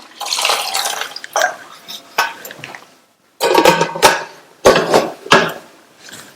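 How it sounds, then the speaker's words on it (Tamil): Water is poured into a pressure cooker holding two large plantains, arriving in several close splashing bursts separated by short pauses. "காய் முங்குற அளவுக்கு தண்ணி,"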